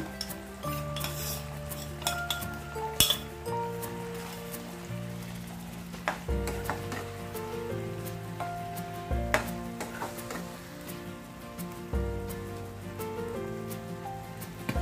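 Spoonfuls of Malvani onion-coconut paste going into a pan for a ridge gourd curry, with steady clinks of a metal utensil against the pan over low background music, no voices.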